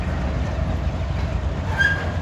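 A Norfolk Southern Herzog rock train rumbles past in Columbus, Georgia, a steady loud roar with a brief high wheel squeal near the end.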